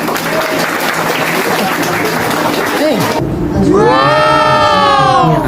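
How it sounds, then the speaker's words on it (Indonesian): An audience of adults and children gives a burst of applause and cheering, a loud dense clatter with lively voices mixed in, followed by a person speaking clearly over the noise. "Tepuk tangan buat Hanif dong."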